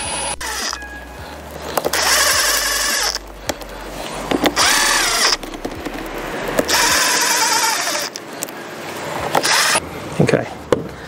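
A cordless power drill set to its lowest torque drives screws into a carbon winch gearbox, long whirring runs broken by short pauses, loud and close, with brief clicks between bursts.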